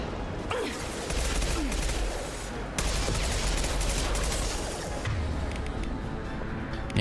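Sustained heavy gunfire from a big gun in the sci-fi shooter Mass Effect 2, dense rapid bursts running nearly continuously at steady loudness with brief gaps, mixed with game action noise.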